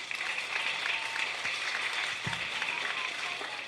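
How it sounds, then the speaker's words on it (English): An audience at a primary school anti-bullying campaign event in Trinidad applauds, producing a dense, steady wash of many hands clapping throughout. "let us just commend Student Support Services here by giving them a round of applause at"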